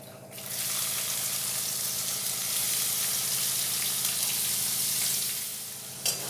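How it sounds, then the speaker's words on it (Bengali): Finely chopped onion sizzles in hot oil tempered with whole cumin, a steady close crackling fry that swells slightly midway and eases near the end, with a small clink of a utensil. "নাড়াচাড়া করে নিয়ে ওতে দিয়ে দেব এইভাবে মিহি করে কুচনো পেঁয়াজ।"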